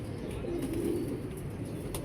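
Pigeons cooing nearby: a low, soft, sustained coo over a steady background hum, with faint flutters and chirps; no talking.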